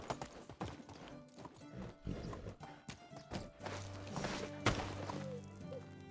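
Horse hooves clip-clop steadily while riding in the medieval village-building game Medieval Dynasty, with a whinny partway through and a musical score playing underneath.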